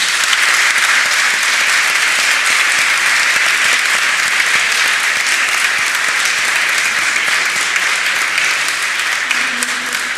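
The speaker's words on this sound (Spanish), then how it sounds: "Me parece un aplauso súper merecido a su gobernadora" Sustained audience applause fills a club hall after a debate session on European banking union, dense steady clapping from a large crowd lasting the whole stretch, loud and even with no voices.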